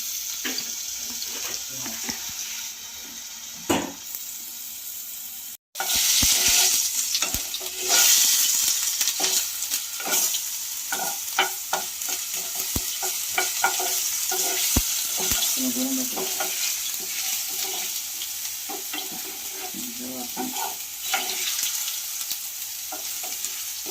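Ginger garlic paste fries and is stirred into chicken gravy for a creamy Afghani-style malai handi, with a loud steady sizzle and frequent spoon scrapes against the pan, broken by a brief pause early on.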